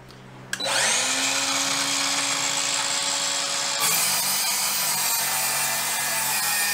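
Power saw cutting a bevel into wall framing lumber during a mobile home renovation, starting abruptly after a brief knock and then running as one loud, steady, sustained whine with a slight pitch shift partway through.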